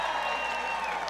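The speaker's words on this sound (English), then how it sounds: "All right, we got a live crowd." A live audience at the Apollo Theater in Harlem, New York, cheers and applauds in a steady, dense wash of crowd noise, moderately loud and unbroken for about a second.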